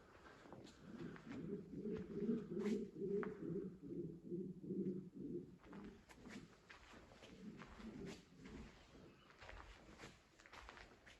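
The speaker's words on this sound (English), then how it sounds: "There's a bird up in the roof" A bird up in the roof of an abandoned mining rig gives soft repeated coos in a slow, rhythmic series, fairly close and faint, while a few scuffs and light footsteps sound now and then.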